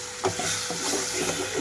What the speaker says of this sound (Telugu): మొత్తం కూడా ఒకసారి కలుపుకుంటున్నాను.